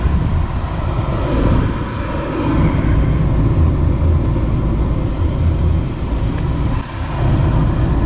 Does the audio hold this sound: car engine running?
yes